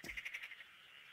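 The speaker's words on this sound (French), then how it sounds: "Pourquoi j'entends des grenouilles?" Frogs croak inside the video game Persona 4 in a quick run of about six pulsing croaks. A steady high-pitched ambient tone continues beneath them as the croaks fade out.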